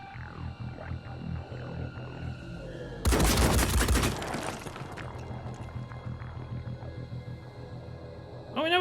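Gunfire in the tactical game Phoenix Point erupts as a single loud, roughly one-second volley of rapid shots, set between stretches of low ambient rumble and creature-like background sounds.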